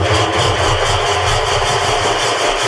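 The engine of a 32-year-old tugboat is cranked over, producing a loud, continuous mechanical churn with a fast, even pulsing rhythm and no speech.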